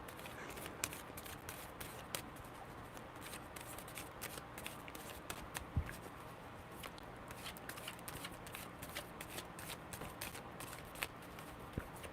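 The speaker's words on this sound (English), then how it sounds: "Ooh, good shuffles. I love good shuffles." Tarot cards are shuffled by hand in a long run of quick riffling and shuffling sounds, faint and close, with no talking.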